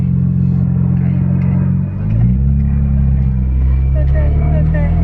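Engine of a Nismo Nissan 350Z running at drifting practice: a steady, loud, deep drone that dips briefly, then climbs in pitch and holds. People talk over it.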